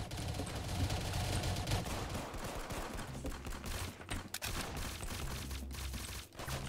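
Rapid gunfire rattles in ROBLOX Arsenal, dense overlapping bursts and shots continuing almost without pause, with a few short gaps near the end.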